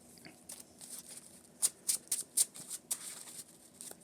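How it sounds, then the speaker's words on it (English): A deck of Marvel Champions encounter cards being shuffled during a Hawkeye versus Mole Man game, heard as a quiet run of soft riffling and several sharper snapping bursts in the middle, close and faint with no talk. "Shuffle the encounter deck."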